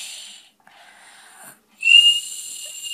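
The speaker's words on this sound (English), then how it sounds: "Continues patiently snoring." A sleeping person snores in short bursts, with thin high whistling tones riding on the breaths, soft and close, separated by brief silences and ending with a louder whistling exhale.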